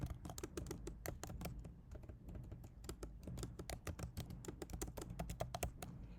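Quiet, rapid clicking of a computer keyboard as someone types code, irregular bursts of keystrokes close by with no voice.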